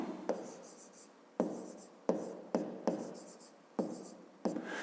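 A pen writes out a geometry solution on paper with a series of short scratchy strokes, each starting with a sharp tap, heard up close at an uneven rhythm with no talking.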